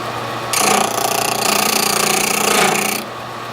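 An HPC Blitz key machine cuts a tubular vending machine key in one loud, dense, buzzing grind of about two and a half seconds. A quieter motor hum runs before and after the cut.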